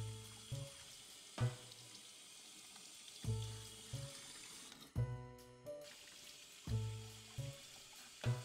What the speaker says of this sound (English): So I just rinsed each of the film rolls in cold water